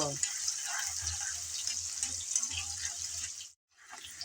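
Carrots stir-fry in a pan with a soft, steady hiss and faint low clatter from stirring. The frying drops to silence briefly near the end, then resumes.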